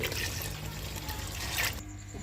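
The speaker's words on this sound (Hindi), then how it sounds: "अब हम इसमें 3 गिलास पानी डालेंगे।" Three glasses of water are poured into a pot of mutton nihari, giving a steady, fairly loud splashing trickle that runs for about two seconds and then stops abruptly.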